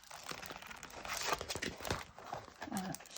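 Unwrapping a package from a Temu order: plastic wrapping crinkles and rustles in close, irregular bursts, with tearing and crunching handling noises between short pauses.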